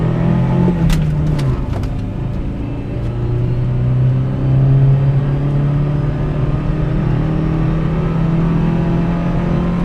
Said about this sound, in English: Okay, here we go, first gear. I'm going to rev it up.